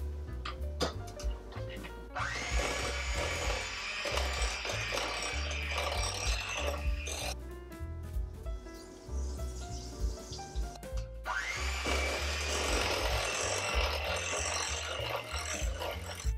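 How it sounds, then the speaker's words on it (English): Cake batter of flour mixture and Coca-Cola is whisked in a bowl, giving a rapid rhythmic clicking and scraping that comes in bursts, with music playing underneath. "we're going to alternate adding the flour mixture and the Coca-Cola. Whisking in between each one."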